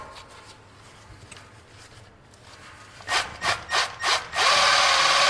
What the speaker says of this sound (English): Buff it up and they look super cool.